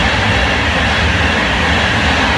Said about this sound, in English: And as you can hear, fast trains go past.